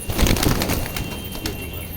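Sick pigeons, including a Chinese pigeon, in a loft, cooing and fluttering their wings close by amid soft bird calls, a continuous busy flock sound with no talk.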